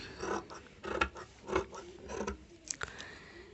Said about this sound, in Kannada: ಎಂಟೂವರೆ ಇಂಚ್ ಡೀಪ್ನ ಕಟ್ಟಿಂಗ್ ಮಾಡ್ತಾಯಿದ್ದೀನಿ